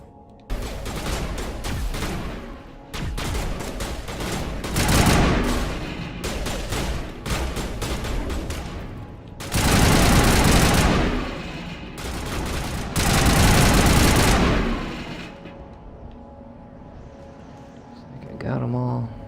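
Assault rifle fire in the Xbox game Mass Effect 1: loud, sustained bursts of automatic gunfire with rapid crackling shots in long sweeps, separated by brief quieter gaps.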